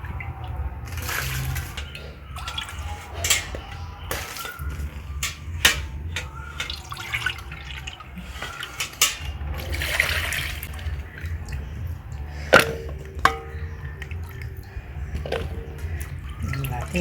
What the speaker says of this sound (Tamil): இதை நல்லா கழுவிட்டு இந்த உருளைக்கிழங்க கழுவிட்டு போடணும்